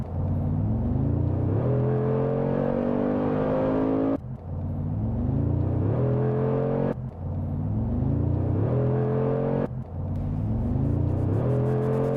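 A Mercedes G63 AMG Geländewagen engine revs hard under full acceleration, a loud, close rising roar that climbs in pitch through three gear changes, each marked by a brief dip before the next surge.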